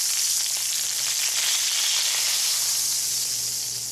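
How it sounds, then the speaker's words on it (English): Chopped onions fry in a pan that still holds pork chop fat, making a steady, even sizzling hiss that stays close throughout with no voices. "we're going to add those onions that we chopped up earlier and cook them until they're soft"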